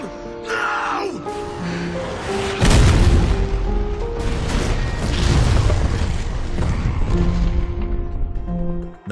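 A truck slams into a fuel tanker in a movie scene, setting off a heavy booming explosion that bursts suddenly and then rolls on as a loud, rumbling roar, layered over music and shouted voices.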